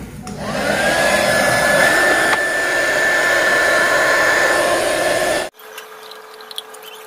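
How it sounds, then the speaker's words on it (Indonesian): A heat gun blows hot air onto the glue around a motorcycle headlight lens, a steady loud whooshing roar held for about five seconds before it cuts off abruptly, leaving faint room noise. "sekarang kita langsung panaskan kembali untuk bagian lem-lemnya ini"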